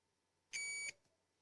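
A multimeter's continuity beeper sounds once while capacitors on a phone circuit board are being probed, giving a short, steady electronic tone of about a third of a second in an otherwise quiet setting.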